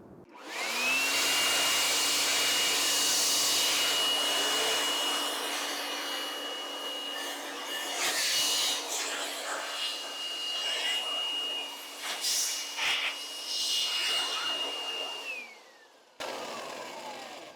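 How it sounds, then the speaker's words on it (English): A big air blower is turned on to clean out the faulty heater fan blower of a Mk2 VW Golf, whining steadily and loudly for about fifteen seconds with shifting rushes of air before spinning down and stopping. "This big blower."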